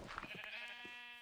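Sheep in the Minecraft video game let out a short, faint bleat with no talk over it.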